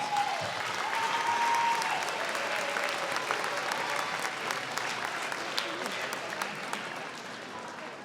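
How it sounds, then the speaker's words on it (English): An audience at an elementary school beginning band concert applauds the parents, a sustained wash of many hands clapping from a crowd, moderately loud and even throughout, with a faint voice or tone near the start. "let's give our parents a huge, huge, huge round of applause"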